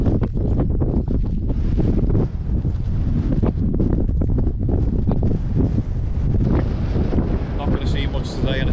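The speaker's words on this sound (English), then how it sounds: "it's bloody windy as well" Strong wind buffets the microphone on a Peak District scramble up Crowden Clough, a loud, continuous rumbling roar throughout.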